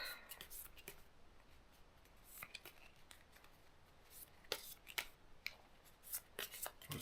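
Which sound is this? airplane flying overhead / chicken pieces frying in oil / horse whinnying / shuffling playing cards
shuffling playing cards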